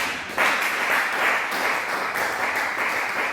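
A church congregation bursts into applause during a sermon, a dense wash of clapping that starts abruptly and holds steady for a few seconds, fairly close and loud, with no talk over it.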